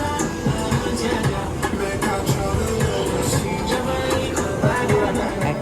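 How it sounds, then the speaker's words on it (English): New York City subway train heading toward JFK airport, steady rumbling ride with rhythmic clickety-clack of wheels over rail joints and faint squeals, continuous and close, with a trace of voices underneath. "So this is us maneuvering the subway."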